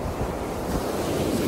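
Strong wind buffeting the microphone on a beach, a steady roaring gust blended with crashing surf, loud and continuous with no voices.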